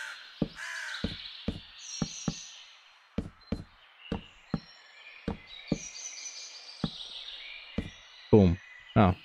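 Repeated harsh bird caws in Minecraft, loud and close, sounding in an irregular series of short calls against quiet game ambience.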